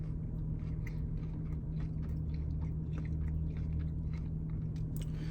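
Close, steady chewing and crunching of fresh, breaded, oily Hardee's onion rings, soft repeated bites continuing throughout over a low constant background hum, with no talking.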